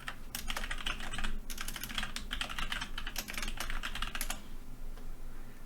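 Quick keystrokes on a computer keyboard as a class name is typed in a Unity VR coding setup, a close, steady patter of clicks in bursts that stops near the end.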